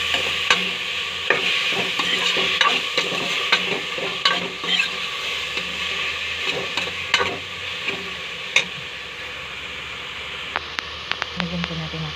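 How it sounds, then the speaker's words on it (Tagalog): Pork cubes frying in a pan with pepper and a little salt while a utensil stirs them, giving a steady sizzle broken by frequent scraping clicks and taps against the pan, close and clear. "haluin po natin."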